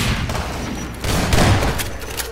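Rapid gunfire tears through zombies in Half-Life 2: Episode Two, a dense, loud stream of shots that swells louder midway and keeps going across the whole stretch without pause.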